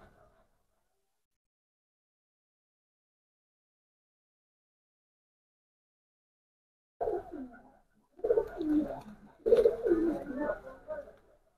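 A Pakistani bloodline pigeon coos in three short, close bursts after a long silence, each a low throaty rumble; no voices are heard.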